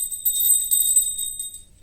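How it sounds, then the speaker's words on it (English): A bell rings with a bright, high-pitched shimmer, sustained in a few pulsing strokes for about a second and a half before fading out, with no voices. "Hear the bell, take the break,"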